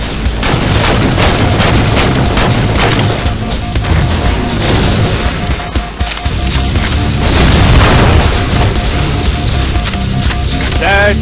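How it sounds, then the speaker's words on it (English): An incinerator cannon weapon firing in Halo 4, a loud continuous barrage of booming blasts and crashes filling the whole stretch, with dense layered game combat noise and brief interruptions. "I'm assuming this is their weapon, the incinerator gun thing"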